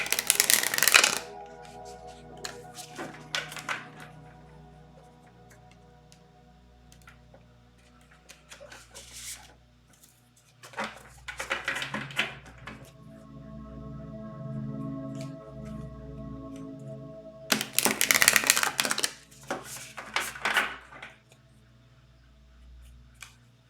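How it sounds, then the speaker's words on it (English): Cards being shuffled in several bursts of quick riffling and rustling, separated by quieter pauses, close by with a low hum underneath. "while I'm shuffling"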